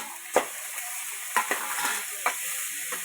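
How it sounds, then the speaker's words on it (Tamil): Chopped onions and tomatoes sautéing in a pan for a potato kurma, a close, continuous sizzle broken by several sharp scraping stirs of a utensil. "நல்லா வதக்கி விட்டுக்கோங்க."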